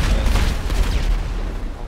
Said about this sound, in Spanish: Ya está, mira para allá. Fuegos artificiales.